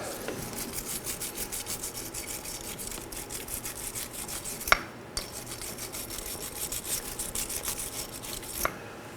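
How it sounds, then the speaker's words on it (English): Wire brush scrubbing a brake caliper bracket on a 2018-2024 Chevrolet Equinox, a quick rhythmic rasping scratch repeated steadily, close and moderately loud, with a couple of sharp metallic clicks. "Gonna take a wire brush."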